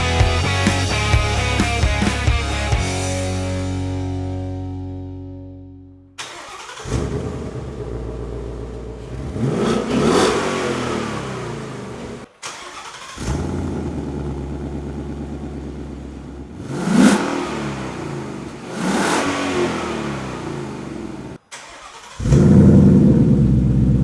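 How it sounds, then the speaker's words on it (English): A Ford Mustang engine with a K&N cold air intake revs repeatedly, rising to a throaty intake growl and dropping back, several loud bursts separated by brief cuts. "And the intake growl is just"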